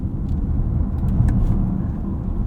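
A 2024 BMW i5 M60 electric sedan accelerating hard in boost mode, a steady low rumble and whir from inside the cabin, smooth and continuous without gear changes or engine revs.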